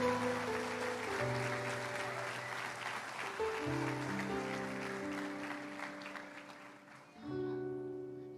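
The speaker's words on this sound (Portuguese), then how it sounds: "Dê uma salva de palmas a Jesus" A church congregation applauds during a Portuguese-language service, a sustained wash of clapping under loud held keyboard or organ chords that carries through to the end.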